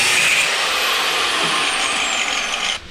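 Power tool cutting notches into a steel frame spacer for a 7.25-inch gauge steam locomotive, a loud steady grinding whine that cuts off abruptly near the end.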